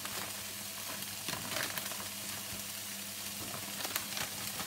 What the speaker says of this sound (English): So that will fry down nicely